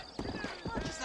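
Horse hooves clip-clopping during riding in the Red Dead Redemption game, a quick, fairly faint run of hoof beats with a voice talking over them.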